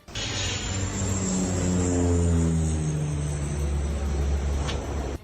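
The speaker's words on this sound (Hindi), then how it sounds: "इसके बाद आग बुझाने के लिए विमान की मदद ली गई" A firefighting aircraft roars overhead above a fire, a loud, continuous engine drone that swells and shifts in pitch as it passes close by, with no voices.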